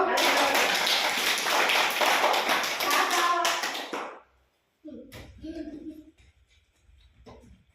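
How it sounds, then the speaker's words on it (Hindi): Children clap their hands in a classroom number-recognition game, a dense burst of rapid close claps for about four seconds, then a pause and scattered softer claps with voices. "ताली मारो ताली मारो।"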